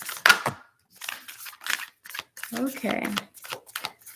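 Tarot cards being shuffled during an oracle reading, a series of short papery riffles and slaps in irregular bursts, close up, with a voice briefly speaking.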